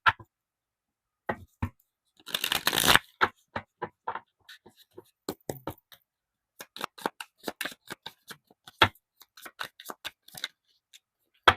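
Oracle cards drawn from a deck, heard as sparse crisp clicks and slides of card stock with a brief riffling burst early on, close and quiet against near silence.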